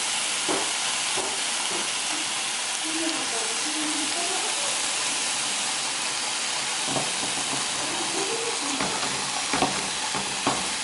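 Bacon fries in a pan with a steady, bright sizzle and crackle, broken now and then by pops and the scrape of stirring, while voices talk quietly in the background.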